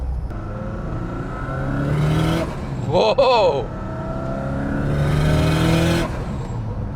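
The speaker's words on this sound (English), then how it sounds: "It's got equal length headers, doesn't have the unequal length header, so the Subi sound is turned down a little bit." Engine-swapped Subaru 2.5RS fitted with equal length headers revs up in two sustained bursts with a quieter stretch between, and a person exclaims briefly in the middle.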